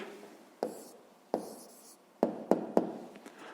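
Handwriting the answer to a fifth-grade math exercise, with a pen scratching and tapping in short, close, quiet strokes and several sharp taps spread irregularly across a few seconds.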